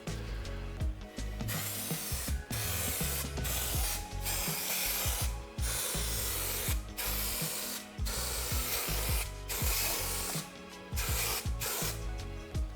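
Spray glue being applied for carpet lining inside a van conversion, a fairly quiet hissing spray in repeated bursts with short gaps, mixed with some rubbing and mechanical clicks, no voices.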